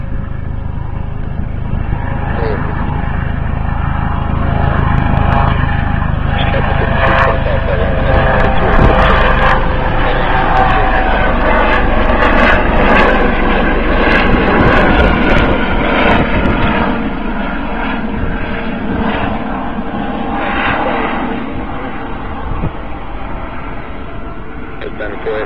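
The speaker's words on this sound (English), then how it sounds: "Traffic Embraer jet departure roll off runway 28." An Embraer jet airliner, an American Eagle flight, rolls for takeoff on runway 28 at Cherry Capital Airport. Its engines give a loud, sustained roar that builds and holds, with air traffic radio chatter over it.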